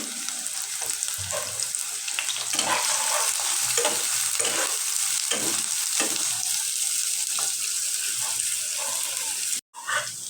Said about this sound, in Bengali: এর মধ্যে এখন পেঁয়াজটা আমি ভালো করে ভাজে নিব মাংসের জন্য